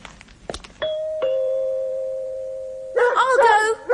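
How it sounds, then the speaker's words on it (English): A front doorbell sounds two chime strikes with a steady ringing tone that hangs for about two seconds, then a voice begins talking over the fading ring. "Then footsteps came up the path and the front doorbell rang."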